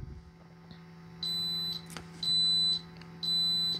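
A portable carbon monoxide gas detector sounds its alarm during a bump test: three loud, steady high-pitched beeps of about half a second each, evenly spaced, over a faint low hum in a quiet room.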